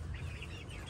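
Lakeshore Egger and Cream Legbar chickens cluck and call, a steady low-pitched rumble of fowl sounds filling the brief moment with no talking.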